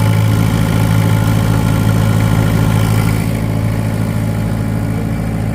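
A combine harvester's engine runs steadily in first gear, a loud, continuous mid-to-low drone with constant vibration throughout and no talk.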